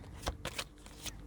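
Tarot cards shuffled and flipped out in quick handling, with three or four crisp riffling bursts spaced through a short, close, fairly quiet moment and no talking.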